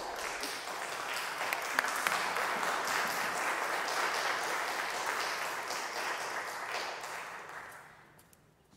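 An afternoon concert audience applauds to welcome a soprano, pianist and other performers, a dense, steady wash of clapping that holds for several seconds before fading out.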